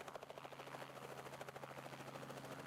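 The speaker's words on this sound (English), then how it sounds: "And up into the air goes the blue chopper." A blue helicopter lifts off, its rotor beating in a steady fast chop that stays faint and continuous, with no voices.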